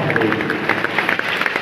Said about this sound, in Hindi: एक बार जोरदार तालियों से पुनः उनका स्वागत